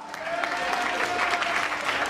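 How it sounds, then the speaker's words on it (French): An audience at a comedy show claps steadily, a dense wash of applause that holds throughout, with a faint tone running beneath. "Applaudissez pour Kassala."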